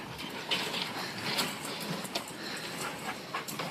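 Several excited farm dogs pant and snuffle close by at a homestead, a steady busy breathy texture broken by brief whimpers and scuffles, with no talk.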